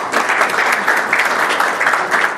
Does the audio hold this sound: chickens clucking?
no